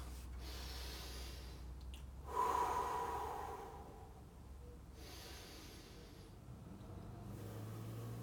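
Deep breaths before a workout set: a slow, forceful exhale near the microphone, then quieter breathing over a low background hum, with no talk.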